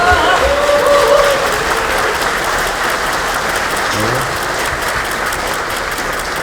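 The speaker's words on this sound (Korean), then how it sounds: "박수 다시 한번 부탁드립니다." A crowd of party lawmakers applauds at a Democratic Party general meeting, with loud, sustained clapping from a packed room that tapers slightly toward the end.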